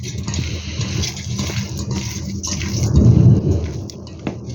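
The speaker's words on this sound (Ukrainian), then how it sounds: "Боже, як гримить страшно." Heavy thunder rumbles continuously over steady rain, swelling louder midway with deep, rolling booms.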